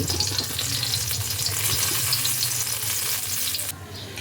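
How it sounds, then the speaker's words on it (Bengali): Eggplant pieces frying in a pan of hot oil give a loud, steady, close-up sizzle with busy crackling throughout. The hiss drops off abruptly near the end as the slices come out of the oil. "বেগুনগুলো বেশ ভালোভাবে ভাজা হয়ে গেছে এবার বেগুনগুলোকেও আমি তেল থেকে তুলে নিচ্ছি"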